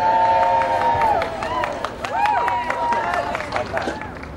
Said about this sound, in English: between the cheers, the applause and the fans asking for photos